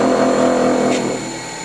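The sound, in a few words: sharpening a woodturning tool on a grinding wheel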